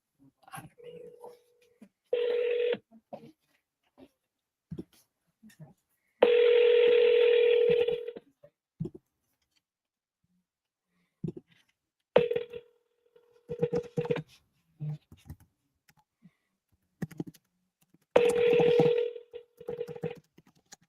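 A phone call being placed: short touch-tone dialing beeps followed by repeated ringback tones, separated by quiet gaps, with someone speaking softly at times in between.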